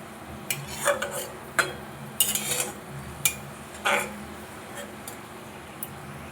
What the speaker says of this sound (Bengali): পেঁয়াজটা আমি খুব বেশি ভাজবো না হালকা একটু লাল লাল হয়ে এলে তুলে নেব